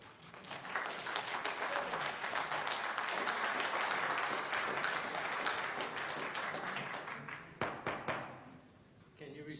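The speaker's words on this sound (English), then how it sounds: "Can you restrain from clapping, please?" Sustained applause from an audience at a Lynchburg city council meeting swells and holds for several seconds, then thins into scattered individual claps as it dies away.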